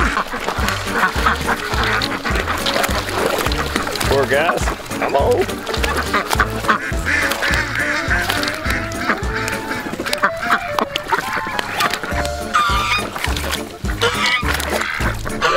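Ducks honking and quacking continuously while sliding on ice in winter, over a busy, noisy background, with a person speaking briefly.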